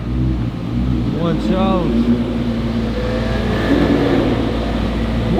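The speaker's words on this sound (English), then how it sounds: "Freaking McLaren P1." A McLaren P1 supercar passes on a busy Zurich street, its engine note rising and sweeping by close and loud over steady traffic rumble, with excited voices talking over it.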